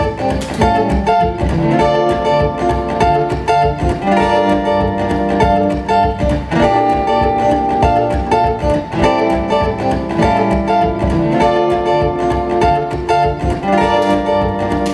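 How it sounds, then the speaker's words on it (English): Bright, ringing guitar chords strummed high up the neck over a full, steady loop pedal accompaniment, loud and continuous throughout. "I also like to add some more chords that are in a higher register than the ones played before"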